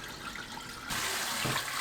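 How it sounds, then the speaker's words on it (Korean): Glutinous rice and glutinous millet being washed in water: a quiet start, then a sudden rush of running, splashing water that continues steadily, close by with no talk. "찹쌀과 찰기장을 씻어주세요"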